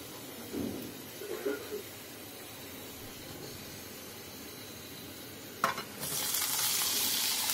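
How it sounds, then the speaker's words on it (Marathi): Potatoes going into a pan of cumin seeds browned to a reddish colour, with a brief frying hiss and stirring clatter early on, then a louder, steady sizzle near the end. "आता आपला जिरा छानपैकी थोडासा रेडिशसारखा कलर आला ना, मग आपण बटाटे ॲड करूया"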